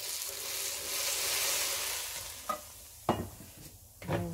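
Koki batter of ripe plantain being stirred by hand as oil is poured in, a steady broad scraping swish with a few sharper knocks of the spoon near the end, close and alone.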